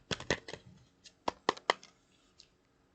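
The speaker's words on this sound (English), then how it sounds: "What a beautiful shuffle." Tarot cards shuffled by hand during a zodiac reading: a run of sharp, close papery riffles and snaps in quick bursts, then scattered lighter taps, with no talk.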